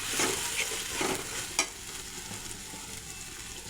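Spice paste sizzling in hot oil while cooking a fish head curry with potatoes, a steady frying hiss broken by a few sharp spatter pops and stirring scrapes, fairly faint and close.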